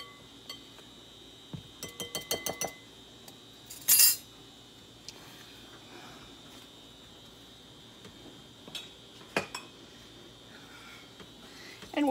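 A utensil clinks and scrapes against a bowl while peach cobbler ingredients with vanilla and cinnamon are stirred together, with a quick run of rhythmic taps followed by scattered single clinks and a few sharper knocks.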